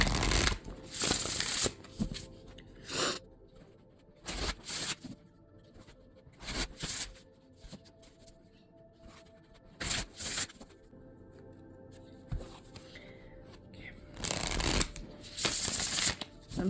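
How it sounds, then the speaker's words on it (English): A new deck of tarot cards being shuffled in repeated riffling bursts separated by quiet pauses, close and fairly soft. "I'm shuffling this deck a little bit more just because this is a new deck"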